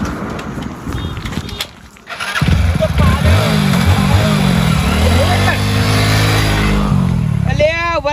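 A motorcycle engine runs loud and close, revving steadily and rising in pitch in an outdoor comedy scene, with shouting voices heard before and over it.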